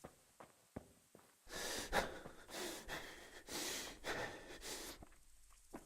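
Heavy, ragged panting from a game character in Kingdom Come Deliverance, a few short sniffs and then a run of loud, breathy gasps and exhales, close and alone.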